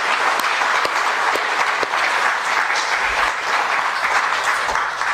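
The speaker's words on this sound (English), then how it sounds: "who deserves a very large round of applause" A large audience applauds steadily at a ceremony about the original 1734 Murillo Velarde map of the Philippines, a loud, dense, sustained wash of clapping with a few sharper individual claps standing out.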